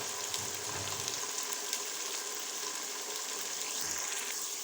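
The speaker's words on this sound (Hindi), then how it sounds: "इसको हम तकरीबन 5 मिनट तक फ्राई करेंगे।" Masala with tomatoes fries in a pan for chicken haleem, giving a steady, continuous sizzle with faint crackles, close and fairly quiet.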